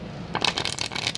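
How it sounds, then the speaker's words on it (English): A deck of tarot cards riffles and slides in a quick, close shuffle, a dense papery flutter that starts abruptly and runs continuously to the end. "So I feel I should pull these cards out and shuffle these 6 times."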